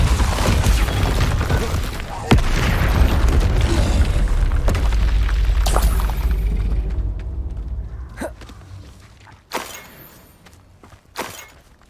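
Fire and force-push spell impacts in Hogwarts Legacy land as loud booming blasts with shattering debris. They give way to sharper, scattered bursts and pops with quiet gaps between them.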